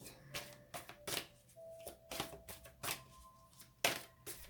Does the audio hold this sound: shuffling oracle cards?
yes